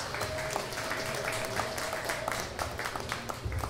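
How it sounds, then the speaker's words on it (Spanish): A live audience at an event in Ciudad Juárez applauds in a dense, steady wash of clapping that holds evenly for several seconds, with no voices on top. "Un aplauso para David Acosta y Aarón Rosales."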